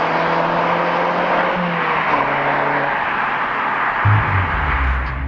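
A Mazda MX-5 RF with a 6-speed manual gearbox drives along with a steady, close engine drone. The pitch steps down and climbs again through several gear changes, ending in a low, rumbling surge.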